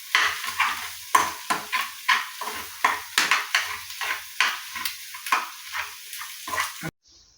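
Noodles being mixed with spices such as coriander powder in a pan, a close series of rhythmic scraping stirs and light sizzle, about a dozen strokes before stopping abruptly, with no talking.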